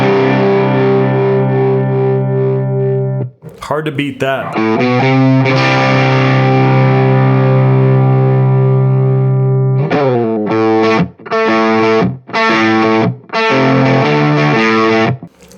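An electric guitar plays through a handmade StuMac fuzz-kit pedal of the Fuzz Face type into a Dr. Z Maz 18 amp, loud and distorted. Long sustained notes give way to choppy stabbed chords, and a voice speaks briefly.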